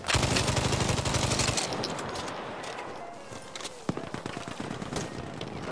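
BAR machine gun fire in Battlefield V, a dense opening burst of rapid automatic shots followed by scattered distant gunfire and impacts, with a short volley of shots near the end.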